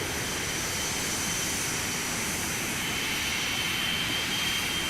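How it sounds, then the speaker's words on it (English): Boeing 737-200 jet engines roaring past in a simulated flyby in X-Plane, a loud continuous broadband rush with a steady high whine, filling the whole stretch with no talk. "We're going to do a quick flyby, and then we're going to park the camera outside."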